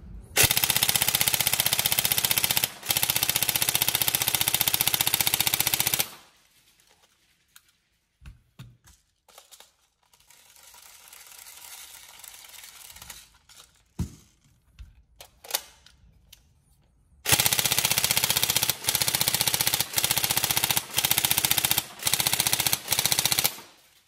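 An upgraded Tokyo Marui MK18 NGRS airsoft gun fires long, loud full-auto bursts of rapid mechanical clatter, then a quieter stretch of scattered clicks and handling noise, then several more sustained bursts separated by short pauses.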